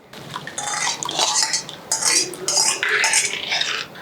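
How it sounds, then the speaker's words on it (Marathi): A metal spoon stirs cooked toor dal into a spiced broth in a pot, giving repeated close clinks and scrapes in uneven bursts over a few seconds. "यामध्ये एकसंध करायचं, मिसळून घ्यायचं."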